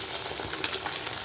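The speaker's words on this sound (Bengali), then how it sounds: "একটা একটা করেই ভাজছি।" Small fish frying one at a time in a pan of hot oil, a dense continuous crackling sizzle heard close and fairly loud throughout the short moment, with no talking.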